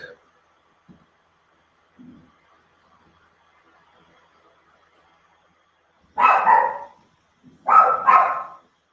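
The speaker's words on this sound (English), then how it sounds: "that's my dog barking" A dog gives two short, moderately loud barks a moment apart after a long, nearly silent stretch broken only by faint small noises.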